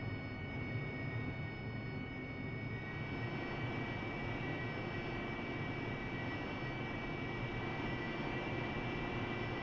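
A Harrier jet taxiing in the DCS World flight simulator gives off a constant jet-engine whine and roar, steady and unbroken, with no voices.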